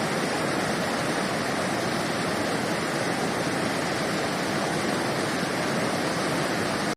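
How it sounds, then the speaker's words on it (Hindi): Flood water in a river after a cloudburst in the Maldevta and Bandal valley roars as a loud, continuous rushing wash, with stones rolling along underneath the current and no voices. "पानी के अंदर से पत्थरों के लुढ़कने की आवाज हम यहाँ आसानी से सुन सकते हैं।"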